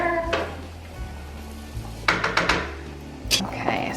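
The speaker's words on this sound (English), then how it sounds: "the oil's heated up, so I'm adding in the onions and the carrots and the garlic" Onions, carrots and garlic sizzle in heated olive oil in a pan, a soft, steady frying hiss broken by several clattering scrapes of a utensil stirring against the pot, with faint voices in the background.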